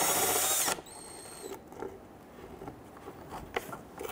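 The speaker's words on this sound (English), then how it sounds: "On the back side of the splash shield, there are two 13mm bolts here. Loosen and remove those." Ratchet working loose the 13mm bolts on the back of the splash shield under a 2011-2021 Jeep Grand Cherokee 3.6L V6, a few close mechanical clicks and taps after a loud burst of tool noise, no talk.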